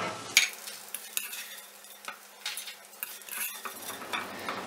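Edible gum (gond) roasting in ghee in a pan, stirred continuously with a spoon, giving soft close scraping and clinking strokes over a faint sizzle.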